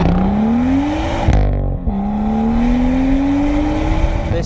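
A BMW M2 with a 3.6 engine and switchable carbon-tipped M Performance exhaust drones steadily up close, its pitch climbing, dipping briefly near the middle, then rising again under load.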